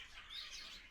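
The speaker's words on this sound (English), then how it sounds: "And that is 2 pairs of zebra finches" Zebra finches in an aviary give a brief burst of faint, high, nasal chirps, soft and somewhat distant, lasting under a second.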